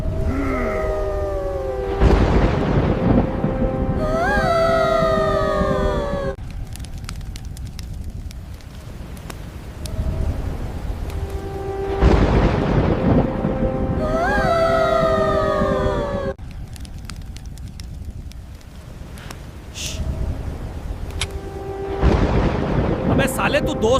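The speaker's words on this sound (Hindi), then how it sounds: "अब तूफान आने वाला है।" Cartoon storm effect with repeated loud thunder crashes and rumbles, interleaved with whooshing wind and sweeping tonal swoops, the crashes arriving in a looping pattern that is close and loud throughout.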